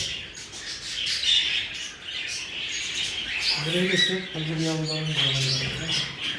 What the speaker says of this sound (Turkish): Burada bir yavru bir muhabbetlik arkadaşlar.